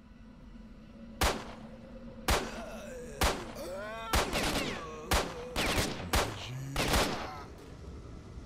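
Gunfire from a weak gun in S.T.A.L.K.E.R. Shadow of Chernobyl, about nine sharp shots spaced roughly a second apart, each ringing briefly with echoing tails.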